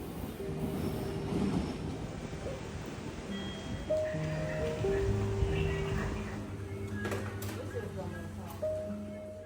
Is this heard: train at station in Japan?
yes